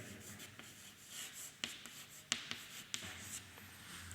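Chalk or marker writing on a board during a maths lesson, soft scratchy strokes and a few sharp taps over quiet room tone.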